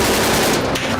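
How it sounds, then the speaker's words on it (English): Gunfire from a firefight, a dense burst of rapid shots that fills the whole second, loud and close. "we'll see how Punk started the shooting"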